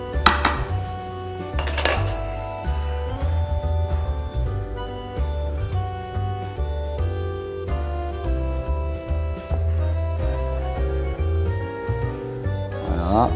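Cooked meat done pink is sliced with a knife in a kitchen, giving repeated clinks and scrapes of metal on plate and board amid light clatter, with a faint voice in the background.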